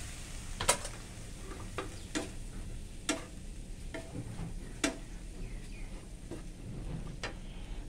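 Blanched pork skin is stirred by hand into cooked minced pork and liver for larb, giving quiet, scattered clicks and soft wet scrapes spaced a second or so apart over a low background hiss.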